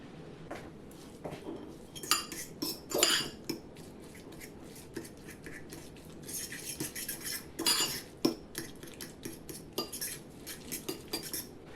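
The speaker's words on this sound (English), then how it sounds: "I'm then going to break my egg in here and just give everything a good mix to combine." A spoon stirs cottage cheese, a cracked egg and spices in a bowl for several seconds, giving irregular clinks and scrapes against the dish, fairly faint and close, with no talk.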